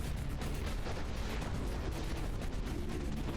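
Continuous rumbling barrage of artillery and gunfire from the Dust Front RTS war game, dense overlapping booms and bursts forming a steady, loud roar without pause.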